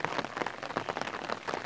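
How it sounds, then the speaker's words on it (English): Rain falls steadily outdoors on a hard surface, a dense, continuous patter of drops that holds at an even level throughout, with no voices. "it's raining outside"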